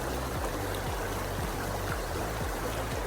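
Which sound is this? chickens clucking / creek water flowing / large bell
creek water flowing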